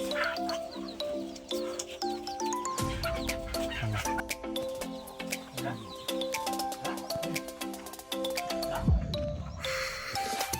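Chickens cluck and call in a busy, continuous chorus with a bleating animal mixed in, fairly close, with occasional sharp clicks.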